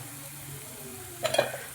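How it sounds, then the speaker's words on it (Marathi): Vegetables for fried rice cook in a pan with a low, steady sizzle, then a brief burst of louder stirring and scraping near the end; no voices. "या भाज्या ज्या आहेत त्या थोड्याशा शिजवून घ्यायच्या आहेत"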